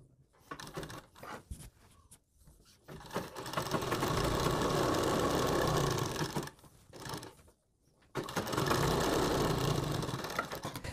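Sewing machine stitching a straight fabric strip for a kurti neckline, running in several bursts of fast rhythmic whirring separated by short pauses, close and fairly loud with no talk.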